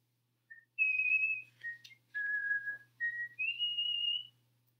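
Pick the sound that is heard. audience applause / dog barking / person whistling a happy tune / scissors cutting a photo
person whistling a happy tune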